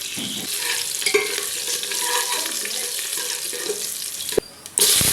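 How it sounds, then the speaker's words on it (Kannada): Mustard seeds, pepper and curry leaves crackle and sizzle in hot oil for a tempering, a continuous close frying hiss with a brief clatter near the end. "ಎಣ್ಣೆ ಬಿಸಿಯಾದ ನಂತರ ನಾನು ಸಾಸಿವೆ ಒಗ್ಗರಣೆಯನ್ನು ಕೊಡ್ತಾ ಇದ್ದೇನೆ"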